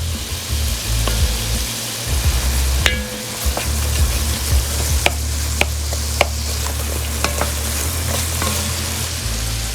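Garlic being stirred into reduced Marsala braising liquid for beef ribs: a steady bubbling sizzle in a pan with occasional sharp scrapes and clicks of a utensil against the pot, continuous and fairly loud throughout.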